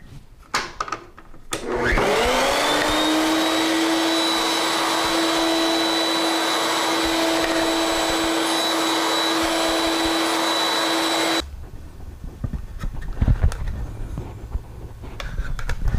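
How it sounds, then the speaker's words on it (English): Router with a straight bit trimming a wooden tenon to width, a sharp high whine starting abruptly, holding steady and loud for about ten seconds, then cutting off, with faint shop noise around it. "I'll raise this bit by just a smidge and take one more final pass"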